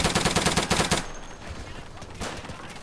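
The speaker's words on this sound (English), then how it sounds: "I'm getting sniped." Rapid gunfire from the Day of Infamy video game sounds in loud dense bursts for about a second, then drops to faint background game noise with a light thump near the end.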